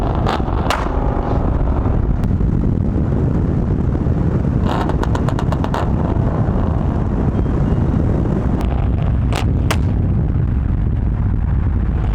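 A 1999–2004 Ford Mustang GT fitted with an N2MB WOT Box, its two-step launch control firing loud sharp pops and bangs in scattered bursts over a constant heavy engine rumble and wind buffeting.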